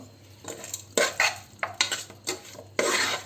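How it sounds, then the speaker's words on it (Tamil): Salted mutton being stirred in a biryani pot, with repeated scraping and clanking of a metal spoon against the pot in irregular bursts, close and fairly loud with no talk. "உப்பு போட்டு கொஞ்சம் கிளறி விட்டுருவோம்"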